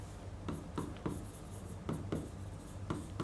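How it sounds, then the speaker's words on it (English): A pen writing on paper, with soft scratchy strokes and small taps in an uneven rhythm, close and quiet over a low steady background hum, with no talking. "Let me write it down."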